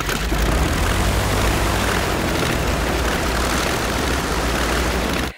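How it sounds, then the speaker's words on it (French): Heavy, droning propeller-aircraft engine roar standing in for a fly as a lumbering bomber, loud and continuous for several seconds before cutting off abruptly. "la mouche, c'est un gros bombardier bien lourd"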